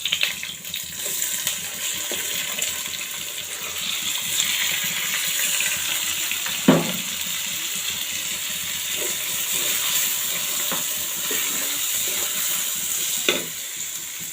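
Drained rice cooks in hot ghee in a pot for beef biryani, giving a continuous steady sizzle with occasional stirring scrapes and knocks and no voices.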